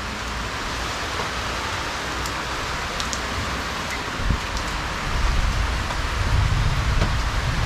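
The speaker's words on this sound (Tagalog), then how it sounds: "Ulan na naman." Steady rain falls in a dense, continuous hiss close by, holding an even level with a few brief patters, then swelling slightly louder with a low rumble toward the end.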